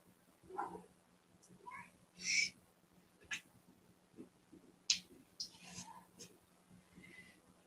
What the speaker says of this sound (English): There's meowing at the door.